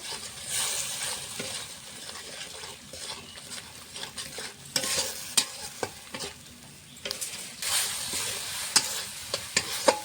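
Spice paste with coriander powder, chili powder, turmeric and salt being sautéed in oil, loud and close: crackling sizzle with frequent scraping stirs and clinks of a spoon against the pan.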